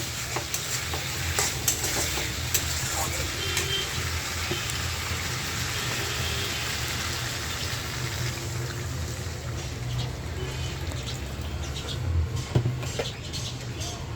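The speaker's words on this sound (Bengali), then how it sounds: "এই যে এখন আমি জল দিয়ে দিব" Cauliflower and potato sautéed in a pan as water is poured in, giving a steady, close sizzle with light stirring that stays even throughout.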